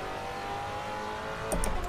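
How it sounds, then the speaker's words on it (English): Maserati Quattroporte with a twin-turbo engine in the Assetto Corsa racing game drones at steady revs with a whining turbo tone, then a brief burst of higher-pitched roar near the end. "can hear those twin turbos really whining"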